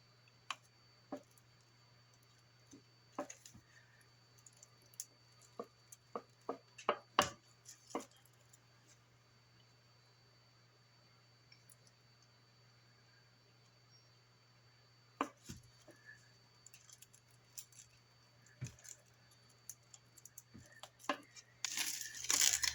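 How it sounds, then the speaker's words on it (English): Polymer clay earrings being cut out through plastic wrap, heard as faint, sparse clicks and soft taps of the cutter pressing down, scattered irregularly over near silence. "we're going to cut out our earrings"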